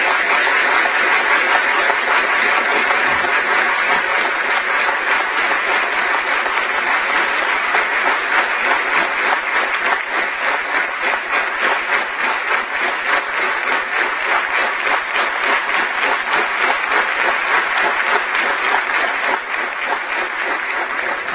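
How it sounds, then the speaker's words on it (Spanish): Sustained, loud, dense applause from a large assembly at the closing of a parliamentary session in Cuba, honouring educators; the clapping holds steady and unbroken for over twenty seconds with no talk. "pido un fuerte aplauso de felicitación y reconocimiento a los educadores cubanos"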